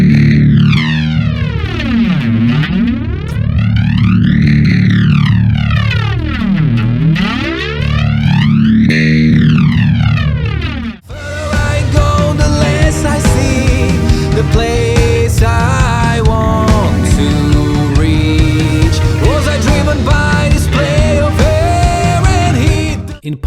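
A bass guitar tone with sweeping, jet-like flanger swirls for several seconds, then a gritty, compressed, overdriven bass line with effects carrying on loudly.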